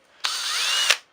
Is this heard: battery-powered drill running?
yes